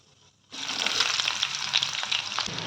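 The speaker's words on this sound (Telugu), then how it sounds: "దీనికి తాలింపుకి ఫస్ట్ శనగపప్పు, మినపప్పు, ఆవాలు, జీలకర్ర వేసుకుందాం" Chana dal, urad dal, mustard seeds and cumin hit hot oil for tempering, bursting into a loud, steady close-up sizzle with crackles and pops that starts abruptly and carries on without talk.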